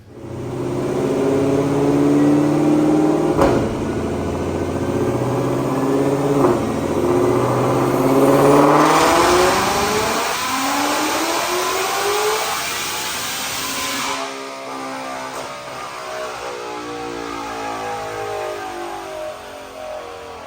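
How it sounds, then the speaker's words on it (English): Supercharged 2020 Ford Mustang Shelby GT500 on E85 with Kooks exhaust and a 2.4 supercharger pulley on a dyno, engine climbing through a loud sustained rev toward 8,000 rpm before the throttle shuts and it winds down. "Check out this dyno pull."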